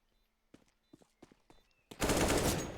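AK rifle headshot gunfire in CS:GO during an ESEA competitive match: faint scattered ticks and steps, then a sudden loud, sustained burst of close rifle fire.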